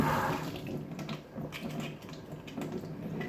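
Cockles being washed in water after barnacles are scraped off, a soft close splashing and trickling with faint clinks of shells, quiet and continuous.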